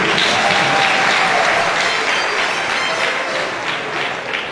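Audience applause at a staff day event, a full, sustained roar of clapping from many hands, steady and close, easing slightly in the final second.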